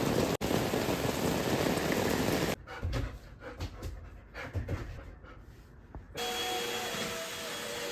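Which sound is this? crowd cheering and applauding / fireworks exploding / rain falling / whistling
rain falling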